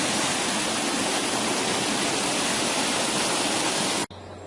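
Water runs strongly in a mill stream by a mill hotel, a loud, dense, steady rushing roar that cuts off abruptly near the end, leaving a quiet hum.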